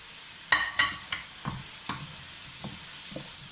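Tomatoes with turmeric and dried coriander fry in a pan for kofta kebab gravy, stirred with a spoon: about eight crisp clinks and scrapes over a faint, low sizzle.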